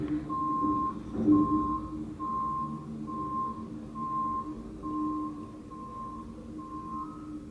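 Leaf collection truck reversing, its backup alarm giving a steady series of regular beeps over a low engine rumble, moderately distant with no talking.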